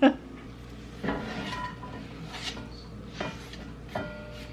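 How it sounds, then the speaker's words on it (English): A heavy Dutch oven pot set down on a kitchen stove for browning meat: a sharp metallic clunk at the start, then lighter scrapes and knocks of cookware spaced a second or so apart, close and fairly quiet. "I'm going to get another Dutch oven out and get my other meat browning up"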